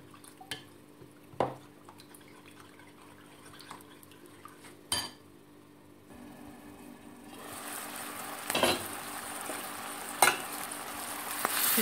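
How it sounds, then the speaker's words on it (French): Escalope frying in a pan while it is turned over, with soft sizzling under scattered clinks and scrapes of utensils against the pan and a few sharp knocks, growing busier and louder toward the end. "J'essaie de tourner maintenant un morceau de scalope."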